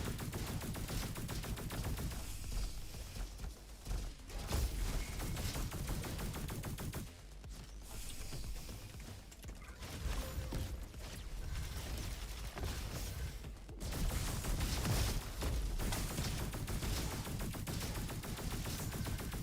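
Robot enemies in the shooter game Roboquest firing cold-based weapons, heard as sustained dense bursts of rapid gunfire with brief lulls, loud and continuous throughout.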